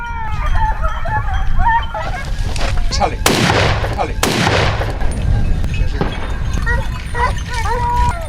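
Rifle shots ring out during a wild boar hunt in a forest: two sharp, loud cracks about a second apart, surrounded by shrill, honking squeals and cries.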